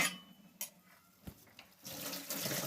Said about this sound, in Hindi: ये पानी डाला है, बल्कि चाय का पानी डाला है।